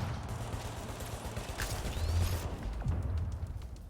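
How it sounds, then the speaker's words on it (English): Gunfire in a video game, with dense rattling bursts of shots from behind the player rolling on steadily over low rumbling game sound at moderate volume. "there's somebody behind me shooting"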